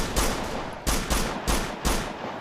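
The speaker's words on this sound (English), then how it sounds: "Now, even though I'm firing my gun, I can't even see anything up there." Repeated gunfire from the player's rifle in Operation Flashpoint 2: Dragon Rising, five loud close bursts in a steady rhythm with short gaps, no voices.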